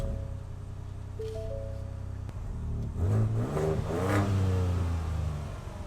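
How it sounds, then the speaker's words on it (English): A 2025 Ford Ranger Raptor is started, with a steady low engine hum, then a brief whirring rise as the engine catches and revs before settling into a rumbling idle, close and fairly loud. "Now I'll put our foot on the brake and reach down and hit start."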